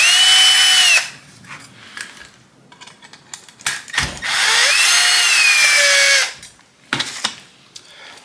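A power drill backs screws out of the headlight bucket on a 1973 Chevrolet Impala, with two long whirring runs and a few short bursts, close and loud, separated by light clicks and handling noise.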